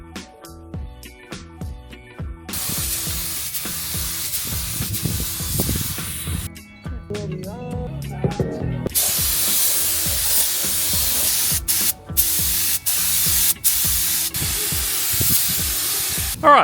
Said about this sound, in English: I've just finished spraying